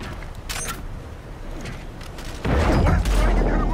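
Gunfire during a civilian shooting in the video game Call of Duty: Infinite Warfare: muffled scattered shots, then a sudden loud booming burst that stays heavy through the final second.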